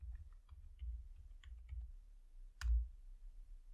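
Light keyboard typing in a code editor terminal, with scattered soft key taps and one sharper click near the end, all quiet and close with no speech.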